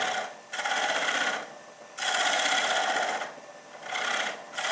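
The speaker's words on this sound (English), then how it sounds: "I could very, very carefully take my tenon here and get it down to the point where" A wood lathe turns a bowl while a tool cuts down its tenon, giving a bright hissing scrape in repeated passes of about a second each, close and steady between brief lulls.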